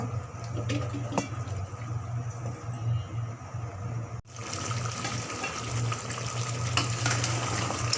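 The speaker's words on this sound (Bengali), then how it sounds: "আবারও ভালো করে মাংসকে এপিট ওপিট করে উল্টিয়ে দেই।" Beef for an Eid-style curry sizzles steadily in a pan as it is turned, with a continuous low frying hiss, a brief pause midway, then louder scraping and sizzling resumed close by.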